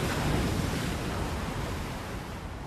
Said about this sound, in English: the first storms roll in, battering the Seven Sisters